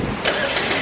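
A 2010 Chevy Equinox engine starts by remote start, a quick crank catching into a steady idle, heard close and alone.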